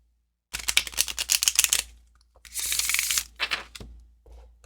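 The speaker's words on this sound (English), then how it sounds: "We go and we split the pack and we shuffle this way." A split deck of playing cards riffle-shuffled close up, a rapid flurry of crisp flicking clicks, a pause, then a second riffle with a bridging whirr that settles into a few soft taps.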